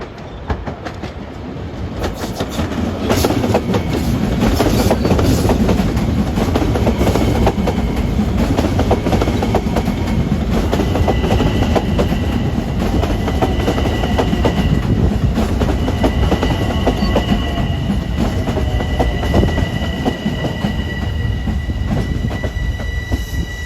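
LIRR commuter train bound from Penn Station to Long Beach passing through Valley Stream, building from a rising approach into a loud continuous roar with rhythmic clickety-clack and occasional wheel squeal.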